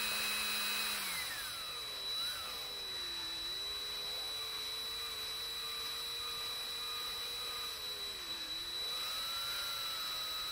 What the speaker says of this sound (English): I'm not sure how audible I am over the sound of the drill